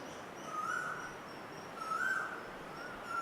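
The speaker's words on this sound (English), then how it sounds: "Did you ask this cuckoo to sing?" Cuckoo calling outdoors, two clear two-note calls repeating about a second and a half apart, moderately distant against a steady background hum.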